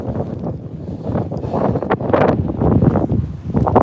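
Heavy wind buffets the microphone near a pier, producing loud, irregular low rumbling gusts that swell and fade with no speech.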